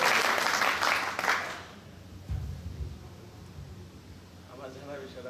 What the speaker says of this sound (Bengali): প্রভুর জন্য একটা জোরে হাত তালি।